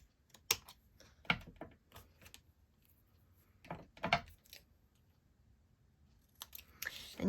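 Scissors cutting out a fine paper sentiment for a card: a handful of faint, sparse snips and rustles spread across several seconds, separated by quiet gaps, close by.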